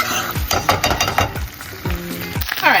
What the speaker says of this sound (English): here in my skillet, I have 3 tablespoons of butter, followed by 1 tablespoon of sofrito that I'm just gonna stir up a little bit